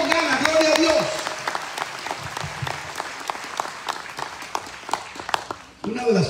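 A congregation applauds in an evangelistic church service, steady clapping that fades gradually, with a preacher's voice heard over it at the start and again at the end.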